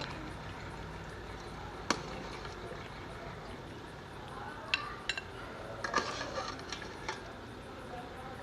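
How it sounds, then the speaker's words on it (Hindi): Beef nihari is ladled into a metal cooking pot: quiet scraping and stirring with sporadic sharp clinks and knocks of utensils against metal, mostly in the second half. "अब इसे एक बर्तन में डाल लेते हैं।"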